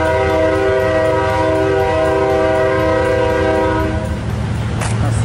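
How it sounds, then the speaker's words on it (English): A train rumbles past nearby in Old Town Spring, Houston, its horn sounding a long steady blast for several seconds over the heavy rolling noise of the cars. "Oh, here comes the train."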